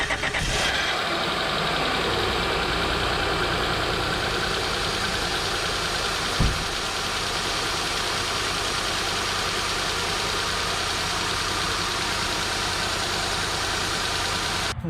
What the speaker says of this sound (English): I'll start it up and you can see if there's leaks